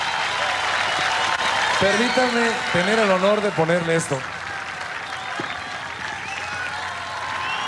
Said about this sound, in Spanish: para el cual pido un gran, gran aplauso por todo lo que representa